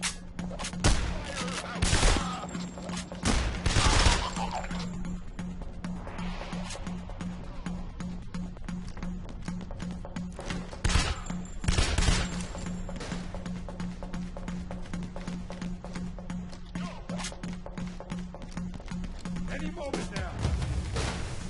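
Rapid bursts of gunfire from weapons in the PAYDAY heist game, dense sustained volleys with heavier peaks early and again near the middle, loud and close over a constant hum, with voices mixed in at times.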